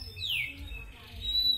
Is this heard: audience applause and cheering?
no